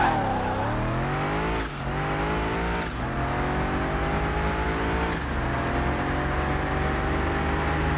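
A big engine revs in Car Mechanic Simulator 21, a steady loud drone that climbs in pitch, drops sharply at a few gear changes or throttle lifts, then builds again across the whole stretch.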